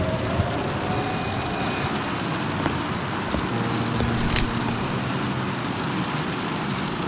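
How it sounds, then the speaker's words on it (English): Telephone ringing in the Letter Lost horror video game, a bright electronic ring repeating in bursts over a constant noisy background, loud and close. "Phone is ringing, as it does every single morning."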